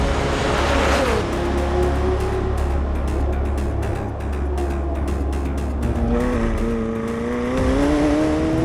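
A McLaren 750S supercar drives on a racetrack, its engine note rising and falling through loud, sustained revs and gear changes, close and continuous.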